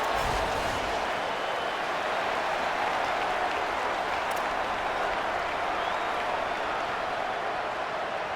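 A stadium crowd roars in an American football video game during a late fourth-quarter goal-line play, a dense, loud, continuous wash of cheering that holds steady throughout.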